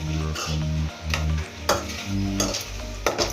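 Okra (lady's finger) sizzling in a pan for gojju while a spoon stirs and scrapes it in a steady rhythm, with several louder clanks against the metal, close and continuous with no talk.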